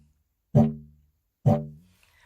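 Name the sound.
didgeridoo played with a tight sound, circular breathing practice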